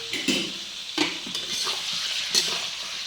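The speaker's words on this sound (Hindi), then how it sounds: "चेस्ट का पीस मैंने मार्केट से कटवा कर लाया था वो सीधा डायरेक्ट तेल और कड़ी पत्ता के साथ डाल दिया जाएगा फ्राई होने के लिए" Chicken breast pieces frying in oil with curry leaves give a steady close sizzle, with a few sharp stirring clanks from a utensil against the pan.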